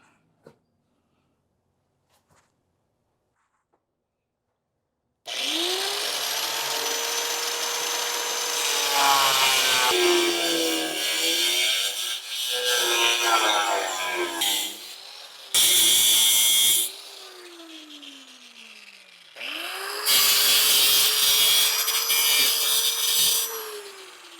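Cut-off wheel slicing into metal on a 1967 car, starting after about five seconds of near silence, then several loud sustained grinding passes with a whining tone that drops as the wheel slows between cuts.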